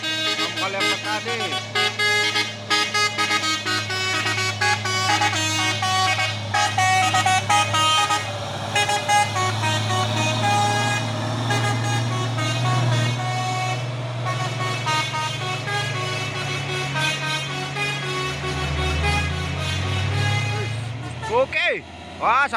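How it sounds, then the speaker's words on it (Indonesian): Telolet musical horn on a Chandra bus at Dharma Raya, a long loud melodic sequence of varied tooting notes over a deep engine rumble and roadside commotion, fading as the bus pulls away. "Bus, bus telolet, bus Chandra di Dharma Raya."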